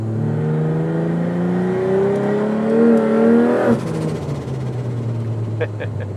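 Heavily modified 1100hp Nissan R32 GTR engine revving hard, pitch climbing in long sweeps before dropping off sharply, followed by a lower rumbling idle, loud and close with a voice talking underneath.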